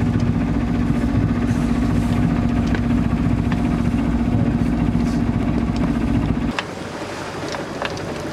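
A sailing boat's engine motors along at sea, a steady droning hum with wind rushing across the microphone, until the engine note drops away abruptly near the end and leaves only wind and water.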